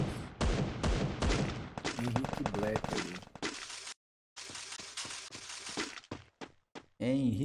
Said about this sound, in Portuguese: quando o cara começa a ouvir tiro de todo lado